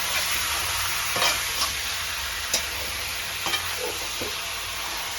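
Boneless chicken stirred in a hot frying pan, a constant sizzle punctuated by several sharp scrapes and knocks of the utensil against the pan; no speech.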